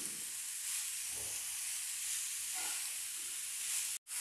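Radish frying in a pan with onion, ginger and garlic gives a soft, even sizzle with faint scraping from stirring. The sound is fairly quiet and ends with a brief cut to silence.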